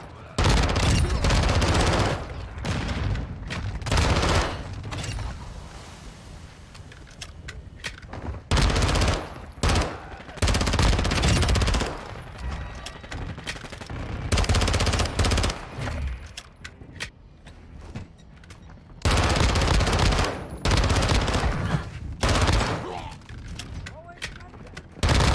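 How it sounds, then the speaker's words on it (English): Gunfire in the video game Modern Warfare 2, shots coming through a wall: loud bursts of rapid fire and heavy impacts break up quieter gaps, with a voice talking at points. "Yo, they're shooting me through the wall right there"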